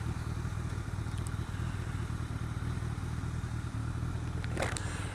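A motorcycle being ridden along a town road, a low steady engine rumble with wind noise running throughout, a brief clatter near the end, with no talk over it.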